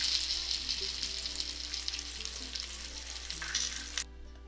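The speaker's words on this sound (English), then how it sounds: "In a few seconds, you'll start to hear sizzling and popping sounds." Peppers sizzle on high heat in a covered pan, a steady bright hiss with scattered small pops and crackles, close and continuous until it drops away abruptly near the end.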